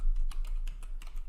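Quick run of keystrokes on a computer keyboard, about eight crisp clicks in a short burst, close and quiet with no talk.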